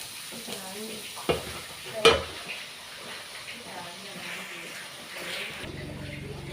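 Vegetable thoran being stirred in a pan crackles with a low, steady sizzle, punctuated by two distinct scraping knocks of the spoon, while a voice talks faintly nearby.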